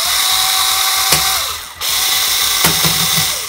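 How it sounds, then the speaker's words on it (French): A saw cuts continuously through a product sold as disaster-proof, a loud, harsh, steady grinding drone that dips briefly midway and then resumes, with a few sharp clicks. "je commence à scier"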